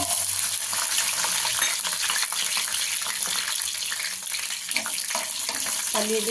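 Peanuts and tempering seeds frying in a little oil for lemon pulihora, a dense steady crackling sizzle throughout, close up and fairly loud, with faint stirring scrapes.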